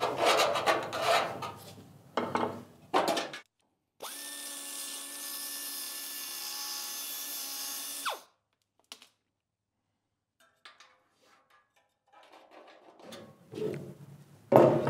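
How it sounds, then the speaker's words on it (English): Steel scraping against sheet metal while scribing a line on a fill panel for a 1970 Dodge Charger, heard as bursts of rough rasping followed by a steady, loud ringing rub that stops abruptly. "I'm gonna just scribe one more line."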